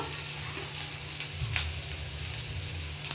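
Onion and kokum sizzle steadily as they are sautéed in a hot pan, a soft continuous frying hiss with a brief stir around the middle.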